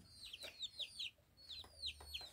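Young chicks raised at a village home cheep in quick, high, downward-sliding peeps, several in a row and then a brief pause before more, faint and close, with no voices.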